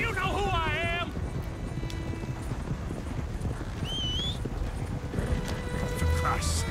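Horse hooves clip-clop steadily in Red Dead Redemption 2, a close rhythmic plodding with a brief whinny-like call in the game soundscape over a continuous outdoor ambience.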